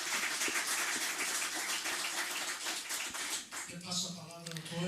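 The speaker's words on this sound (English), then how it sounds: "I would like to ask for a round of applause for all our panelists." Audience at a conference session applauding the panelists, a steady dense wash of clapping at moderate distance that thins toward the end as a voice begins speaking.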